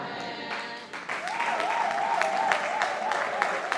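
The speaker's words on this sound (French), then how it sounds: "Encore un tonnerre d'applaudissements pour cette nouvelle casquette d'homme de Dieu." Applause from a church audience, broad continuous clapping that swells and holds steady, with a sustained singing or instrumental tone running over it and voices mixed in.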